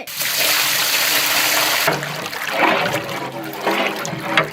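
Water gushes and splashes loudly into a cooking pot of soaked basmati rice for chicken biryani, a continuous pour with a brief break partway through before resuming with gurgling.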